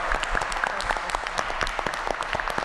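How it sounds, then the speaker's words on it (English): At a Providence city council meeting, people applaud two high school graduates with a brief patter of moderately faint, steady clapping in a large room. "round of applause for Julian and Christopher"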